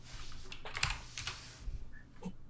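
Clicky keystrokes on a computer keyboard, a short irregular run of taps close to the mic with brief gaps, heard alone without talk.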